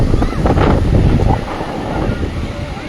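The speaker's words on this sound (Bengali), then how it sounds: "এই দেখো একটু ঢেউ, দেখো ঢেউ।" Sea waves wash onto Digha beach under heavy wind buffeting, a loud steady roar with a surge of surf early on that then eases slightly, with a voice talking over it.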